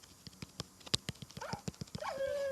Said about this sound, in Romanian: Bebe, lasă câinele, poate să te muște.